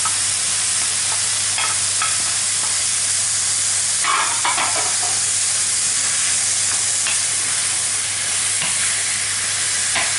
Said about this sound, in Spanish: Y ahora lo vamos a sofreír un poquito